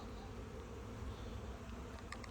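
Honeybees buzz in a dense, continuous drone during cleansing flights outside their hives, many insects flying close together at a low, steady level with no talking.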